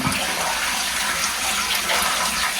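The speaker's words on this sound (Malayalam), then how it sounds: "ഇവിടെ നിന്ന് ഇങ്ങനെ വെള്ളം വന്നുകൊണ്ടിരിക്കുകയാണ്" Steady rushing water flows continuously in a cave, a dense broadband gush that fills the space without pause, sounding close and fairly loud.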